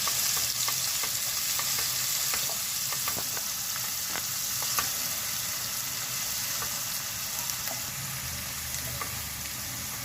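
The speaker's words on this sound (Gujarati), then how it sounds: "ઝીણી સમારેલી ડુંગળી નાખી દીધી છે આપણે 2 મીડિયમ સાઇઝની।" Two medium onions, finely chopped, frying in hot oil in a pan for chicken pasta. Close, continuous sizzling with faint stirring ticks throughout.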